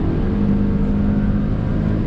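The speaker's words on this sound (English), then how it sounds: "when you rev hard, you seriously can notice a minute difference in the exhaust note as well" Hyundai i20 N Line engine revs on a downshift, a loud sustained drone and rumble through its twin-muffler exhaust, steady throughout with no talking.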